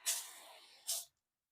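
Two quick hissing spritzes from a spray bottle misting water onto orchids, a long burst trailing off followed by a shorter one, close and clear with no talking.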